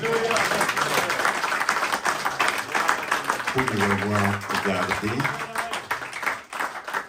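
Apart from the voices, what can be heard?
audience applauding in church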